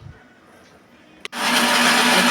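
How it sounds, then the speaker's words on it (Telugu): A kitchen mixer grinder whirs loudly into action after a brief click, grinding dried red chillies, coriander seeds, cumin and salt in a steady, continuous roar close by. "మిక్సీ పట్టుకోవాలి."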